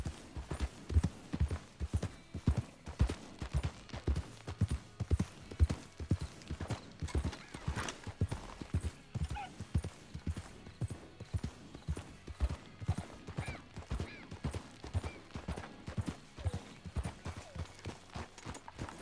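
A horse gallops in the video game Red Dead Redemption 2, a steady rapid clip-clop of hooves throughout with a brief whinny partway, moderately quiet and mostly alone.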